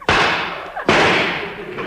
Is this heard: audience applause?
no